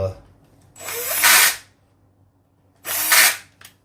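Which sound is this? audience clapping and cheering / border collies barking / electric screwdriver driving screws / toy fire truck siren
electric screwdriver driving screws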